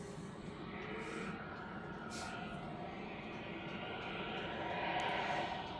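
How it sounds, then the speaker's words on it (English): A Swiss Airbus A350 rolling out after landing on runway 14 at Zurich airport gives a faint, distant, steady jet roar that swells slightly toward the end, with talk in the background. "the Swiss A350 is landing on runway 14 already on the ground"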